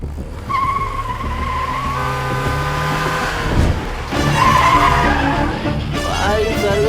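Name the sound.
vehicle skidding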